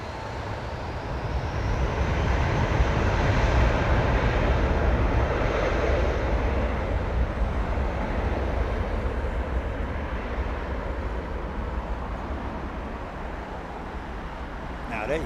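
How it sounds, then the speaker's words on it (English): An airliner with older IAE engines spools up for takeoff at London Heathrow, a loud broad roar from somewhat down the runway that swells and holds, then eases slightly. "listen to this thing spool up compared to the leaps"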